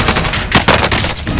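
Gunfire crackles in Call of Duty Warzone on Rebirth Island. Dense, overlapping shots form a loud, continuous barrage for the whole stretch, with no one talking over it.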